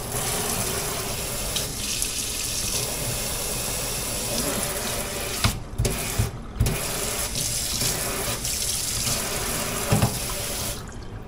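Water runs steadily from a newly installed pull-down sprayer faucet into a kitchen sink, a continuous splashing rush with a few brief interruptions and clunks around the middle and near the end.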